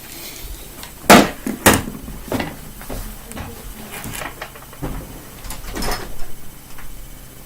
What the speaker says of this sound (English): I need to open up the window.